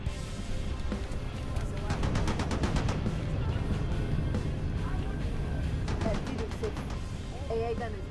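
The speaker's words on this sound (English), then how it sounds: "This gotta be the weirdest grenade launcher ever." Weapon fire in the video game Halo Reach, a grenade launcher: a cluster of sharp, rapid blasts and clatter heard under an ongoing stream of game noise while a person talks over it.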